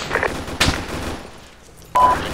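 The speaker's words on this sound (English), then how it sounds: "They're shooting at us doing a terrible job" Scattered gunfire during an Arma 3 firefight: a few sharp shots and short bursts with a quieter lull in between, then a loud crack near the end.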